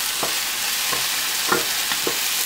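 Beef steak searing in a hot pan: a steady, close hiss of sizzling fat fills the short stretch, broken by a few soft scrapes or shifts of the meat, with no voices.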